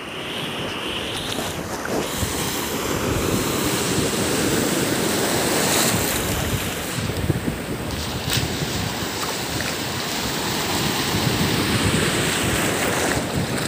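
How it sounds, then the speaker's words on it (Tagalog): Large ocean waves roll and crash steadily onto a beach where fishermen haul a net, a continuous loud surf roar with wind buffeting the microphone, no talk. "Laki ng alon dito."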